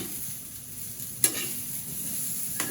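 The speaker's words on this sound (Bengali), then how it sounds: "বেগুন ভাজা হইতেছে" Brinjal slices fry in oil with a steady, moderate sizzle, broken by two sharp stirring clinks near the middle and end.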